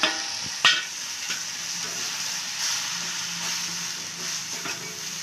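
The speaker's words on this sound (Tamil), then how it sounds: "இது கொஞ்சம் பச்சை வாசனை போகிற வரைக்கும் வதக்கிடலாம்" Masala powders are sautéed in a pan for Tamil vatha kuzhambu, with a soft steady sizzle and a few clicks and scrapes from a spoon stirring. No one talks over the sound.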